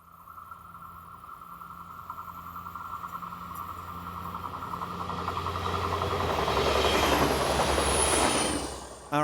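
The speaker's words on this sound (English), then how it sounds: "Class 5022 diesel units pop up on services between Wels and Braunau." A Class 5022 diesel multiple unit approaches and passes on the line between Wels and Braunau, its engine drone and rumble building steadily to a loud clattering peak with a rising wheel squeal before cutting off abruptly.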